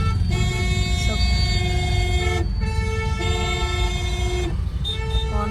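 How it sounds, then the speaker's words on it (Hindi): Car horns honk over and over in a traffic jam, several sustained toots overlapping and stopping and restarting above a steady low engine rumble close by. "हॉर्न पे हॉर्न बज रहे हैं, कोई निकलने नहीं दे रहा किसी को।"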